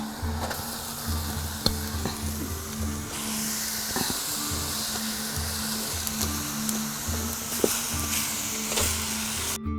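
Grated coconut simmers in sugar syrup in a pan, a steady close sizzle and bubbling hiss with occasional spoon scrapes and stirs.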